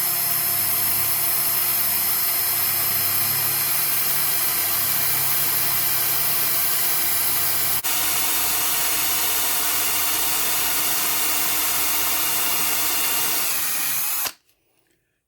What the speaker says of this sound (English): I'm going to begin by drilling a clearance hole for the screw that I'm going to use.